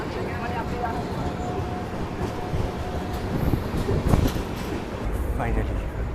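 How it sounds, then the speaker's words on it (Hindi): The Mahabodhi Express passenger train pulls out of a railway station in India, its wheels rumbling and clattering steadily along the rails at close range while a voice talks over the noise. "चलिए फाइनली डिपार्चर हो गया अपना बुरारू रेलवे स्टेशन से, और चलो ये ट्रेन निकलेगी"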